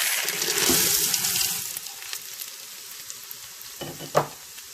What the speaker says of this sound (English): I just sauteed the onion and garlic for a little bit.